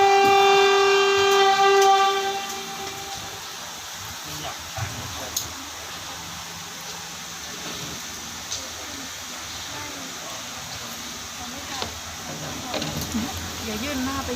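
Express train 102 from Chiang Mai to Bangkok pulls into Uttaradit station at platform 1, a loud horn blast opening before the rolling rumble and clatter of the cars fades to a steady background with occasional clanks.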